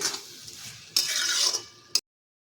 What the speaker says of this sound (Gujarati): હવે આપણે એમાં બાફેલા તુવેના દાણા નાખી દઈશું બધું સારી રીતે આપણે અહીંયા મિક્સ કરી લઈશું